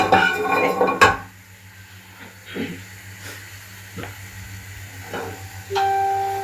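A metal cooking pot for an eggplant and chicken maqluba is handled, with one sharp clank followed by a few softer knocks and clinks over a steady background hiss.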